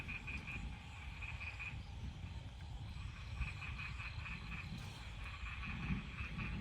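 Frogs croaking near a trickling stream, repeated rhythmic pulsing calls in bursts over a steady low rumble of background noise, fairly faint and distant with no talk.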